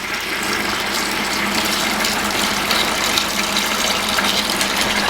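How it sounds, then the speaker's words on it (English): Aquarium water siphoned out of a tank rushes in a steady, continuous gush that stays fairly loud and close throughout, with no talking. "But siphon the water out like that."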